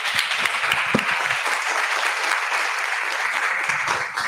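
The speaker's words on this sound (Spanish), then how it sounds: "Un aplauso para la profesora." Warm, sustained applause from an audience for a professor at a Colombian archaeology congress, a dense even patter of many hands with a few louder claps, continuing without speech.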